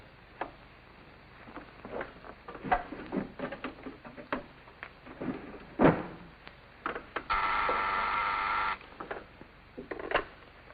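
A telephone is dialed indoors: a string of irregular light clicks and ticks followed by a brief steady buzzing tone, then another click, all close with no talk.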